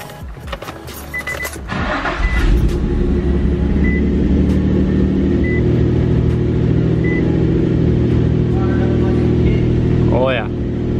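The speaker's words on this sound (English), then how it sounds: "Round 2 of starting the car up." A G35 Coupe engine cranks and catches, then settles into a steady idle rumble, with a short squealing sound near the end.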